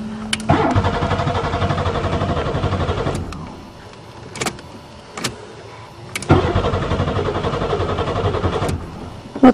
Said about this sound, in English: It started perfect after it sat a few years.